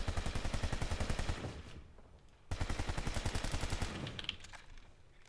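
An NS-11A rifle in the sci-fi shooter Planetside 2 fires two long bursts of rapid, evenly spaced automatic shots, close and punchy, separated by a brief pause, with no talking.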